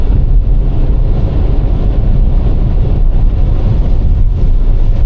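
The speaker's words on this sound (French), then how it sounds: "On a quand même des bonnes rafales de vent, là, le outflow de l'orage, qui souffle quand même" Loud, continuous wind roaring and buffeting against the microphone, a dense low rumble with no voices.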